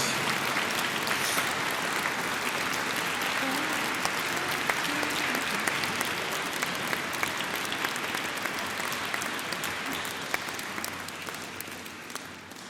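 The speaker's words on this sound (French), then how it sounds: "On l'applaudit encore." A congregation at a charismatic prayer gathering applauds at length, a full, steady roar of clapping that holds for over ten seconds and only slightly thins toward the end.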